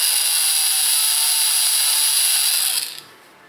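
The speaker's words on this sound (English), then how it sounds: "use a sanding disc or a file to grind the face of the LED" A sanding disc on a rotary tool grinds the face of an LED flush, giving a steady, loud, high-pitched whine that holds for about three seconds and then cuts off.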